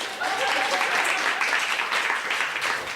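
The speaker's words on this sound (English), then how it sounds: "Y'all can clap for Russ." A gathered group at a hosted event applauds for three seconds, a full and close burst of clapping that holds steady and then eases slightly at the end.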